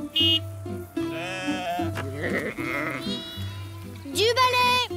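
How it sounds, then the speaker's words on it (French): Cartoon sheep bleat in quick wavering calls, one near the start and a louder cluster near the end, over a steady musical soundtrack with bouncy low notes. "Les moutons se sont échappés."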